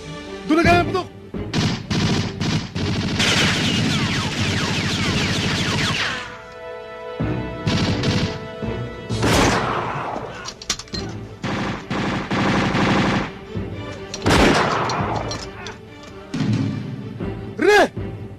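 Gunfire in the Fernando Poe Jr. Filipino action film Ang Dalubhasa: a series of sharp, loud shots and bursts come in clusters, mixed with crashes, music and shouting voices in Tagalog.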